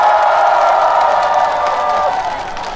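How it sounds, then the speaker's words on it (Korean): A crowd at an outdoor trot music festival concert applauds and cheers loudly, a dense continuous roar of clapping and voices that slowly fades. "한번 뜨거운 박수를 부탁드리겠습니다"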